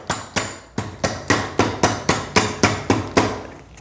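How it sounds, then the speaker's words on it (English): A small rubber hammer taps a full exhaust into place on a 2025 Yamaha R3 motorcycle, about a dozen sharp, evenly spaced knocks at a steady brisk rhythm, close and loud, with no talking. "I'm gonna take a little rubber hammer"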